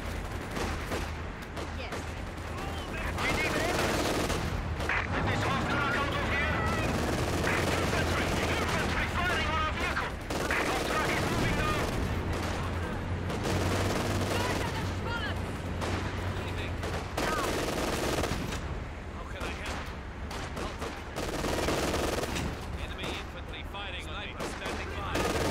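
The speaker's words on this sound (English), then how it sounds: "Fire these damn weapons." Soldiers' weapons fire in Company of Heroes 2 during a winter battle, with sustained rattling gunfire and bursts running almost throughout, mixed with battle noise and occasional voices.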